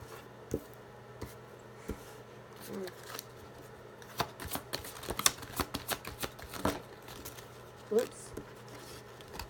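Tarot cards are shuffled and handled up close, giving soft irregular flicks, riffles and slaps that grow busier in the middle over a faint steady hum.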